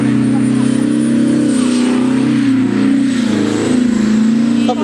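A car does a tyre-shredding burnout at an airshow, its engine droning loud and steady with a rising, wavering pitch and screeching tyres, close to the listener throughout.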